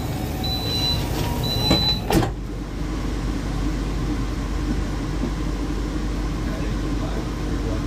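A sliding train door on an Indonesian passenger train at Semarang Tawang station is pushed shut by hand, ending in a single sharp close about two seconds in, over the steady low rumble of the carriage interior.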